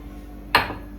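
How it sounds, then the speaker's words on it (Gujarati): A single metal pot clatters down onto a hard surface, sharp at first and then fading over a brief rattle. "મમ્મીએ મૂકી છે તપેલું"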